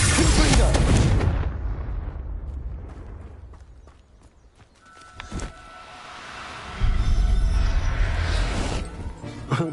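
Confringo blasting spells explode in Hogwarts Legacy: a loud burst of booming blasts at the start, a quieter lull with a single sharp crack, then another rumbling run of explosions.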